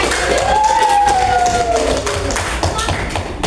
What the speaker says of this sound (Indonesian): Silakan berikan tepuk tangan buat ini.